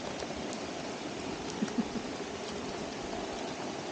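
Heavy rain pours down steadily during a mountain hike on Mt. Sembrano, a dense, continuous hiss of drops with a few brief louder patters standing out, and no voices.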